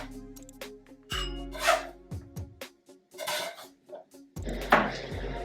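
Finely chopped garlic scraped and tipped into a bowl, with several close, sharp metallic clinks and knocks of a utensil against a dish, separated by short scraping rubs and brief pauses.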